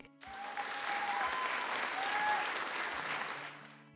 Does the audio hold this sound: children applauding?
yes